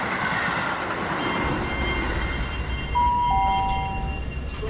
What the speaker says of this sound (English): This is Brighton. This train terminates here.